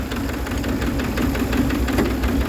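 A mini tractor engine runs steadily with a rotary tiller over ten years old attached, giving a continuous rough, knocking idle-like drone with constant vibration at close range and no talking.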